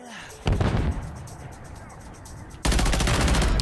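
Automatic gunfire in a first-person shooter video game, one short rapid burst followed after a pause by a second longer loud burst of fast shots, close and punchy.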